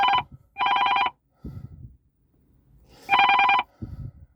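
A telephone rings inside a car in repeated short electronic bursts, three clear rings with brief pauses, fairly close, with faint rustling between them.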